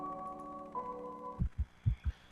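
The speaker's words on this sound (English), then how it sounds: "With my heart pounding in my ears" A pounding heartbeat sounds in an audio drama: a sustained tone fades out, then four deep, muffled thumps follow in an uneven rhythm, close and alone.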